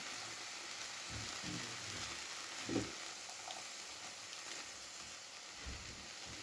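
Onion frying in a pan for a breakfast of fish with vegetables gives off a soft, steady sizzle, with a brief scrape of stirring partway through.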